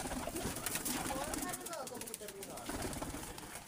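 Pigeons coo softly in a rooftop loft, low throaty calls mixed with faint wing flutters, while someone talks over them in a steady noisy background.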